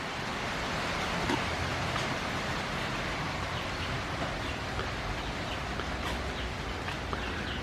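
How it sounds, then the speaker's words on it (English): Rain comes down on a weedy yard planted with frog grass as a quiet, even hiss with no voices, steady throughout with only faint scattered patters over the wash. "It's kind of hard when it's raining."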